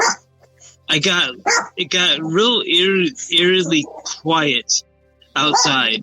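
A dog barks repeatedly in short sharp bursts close by, mixed in with and overlapping someone talking indoors.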